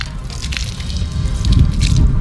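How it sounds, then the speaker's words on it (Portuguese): Water is poured onto a stained T-shirt, a close, soft splashing and trickling wash that grows slightly louder toward the end. "E bota-lhe água."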